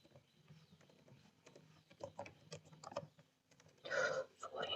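Computer keyboard typing while coding a C++ lesson, with irregular bursts of clicking keys close to the microphone, a denser clatter near the end, and someone talking over it.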